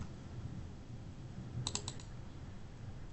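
Brief burst of typing on a computer keyboard, a quick cluster of three or four soft clicks in the middle, over quiet room noise.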